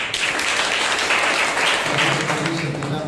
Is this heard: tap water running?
no